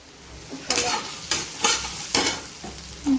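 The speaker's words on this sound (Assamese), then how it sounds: "পিঁয়াজ বেছিকৈ দি পিঁয়াজটো ভাজিব দিছোঁ" Onion frying in a hot pan, with repeated bursts of stirring over a steady sizzle, close and fairly loud, no talk.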